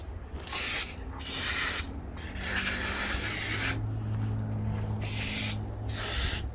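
Bursts of aerosol lubricant sprayed onto the old door hinges of a 1954 Packard Cavalier that has sat since 1970, several separate close hisses of varying length with short gaps between them, a low hum running underneath.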